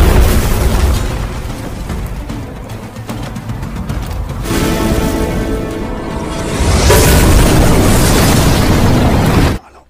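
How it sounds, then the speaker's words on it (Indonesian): A grenade explosion rocks a defensive fort in a war film battle scene, a loud, sustained rumbling roar that surges again midway and cuts off abruptly. "Pertempuran dimulai ketika Huan Li melempar granat ke arah benteng pertahanan tentara Amerika."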